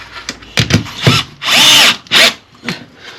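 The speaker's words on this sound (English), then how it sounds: "So I just screw through the plastic, 2 screws like that" A power drill drives screws through plastic while fitting a downstairs toilet, close and loud, with short motor bursts and longer whirring runs separated by pauses.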